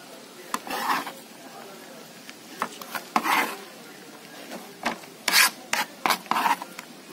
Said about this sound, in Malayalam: തേങ്ങ നമുക്ക് ചെറുതായിട്ട് അരിഞ്ഞെടുക്കാം.